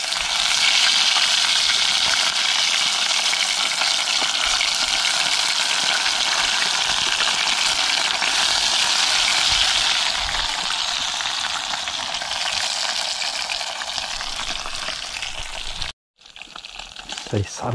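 Flour-coated fish frying in oil in a pan at a riverside cook, giving a steady, loud crackling sizzle that runs for about sixteen seconds before a brief gap, with no clear talk over it.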